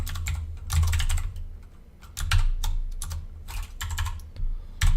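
Rapid, irregular keystrokes on a computer keyboard clatter up close in short bursts with brief pauses between them, alone without any talk.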